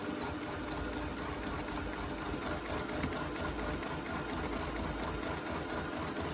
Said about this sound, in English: I've got my machine set up so my needle stays in the cloth.